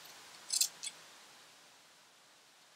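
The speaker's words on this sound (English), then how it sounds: "I am now gonna cut off the excess" Scissors snipping off excess swimsuit fabric while making a bikini, two quick, faint crisp cuts close together early on, followed by near silence.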